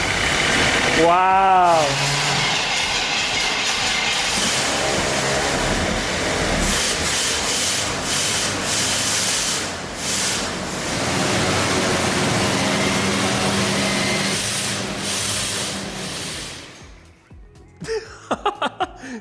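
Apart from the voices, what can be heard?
engine of a 30-year-old car starting and running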